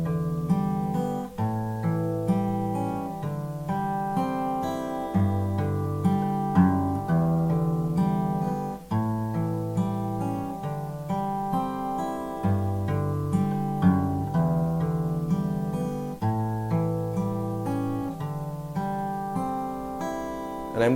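Fingerstyle acoustic guitar plays the closing section of a song, adding a little melodic run, with steady picked notes and ringing chords throughout, close and clear, no talking.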